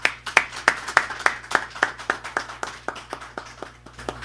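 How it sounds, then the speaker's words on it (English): Audience at a Pan-African anniversary forum claps in a fairly regular rhythm, about three to four claps per second, close and distinct for roughly four seconds. "So let's give ourselves a round of applause,"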